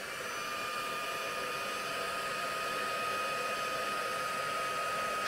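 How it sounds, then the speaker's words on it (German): An embossing heat gun blows steadily to melt embossing powder, a continuous loud whooshing hiss with a faint high whine running unchanged throughout. "So, jetzt brauchen wir den Embossing-Föhn."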